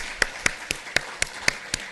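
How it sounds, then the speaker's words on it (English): An audience applauds a speaker at a San Francisco Freedom Movement event with a sparse, evenly paced run of about seven sharp claps, moderately close and with no voices over them. "Let's give him another round of applause."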